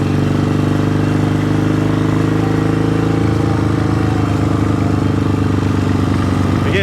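A 1972 Yamaha XS2 650cc motorcycle engine running close by, a loud steady twin-cylinder chugging idle that shifts in tone partway through, continuous and without talk.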